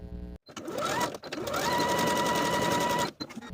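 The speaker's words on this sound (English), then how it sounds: "I'm going to overlap the raw edges by 1 inch and zigzag back and forth to secure." A sewing machine zigzag stitches back and forth across overlapped elastic ends for a skirt waistband, a close, steady mechanical whir broken by brief stops and restarts.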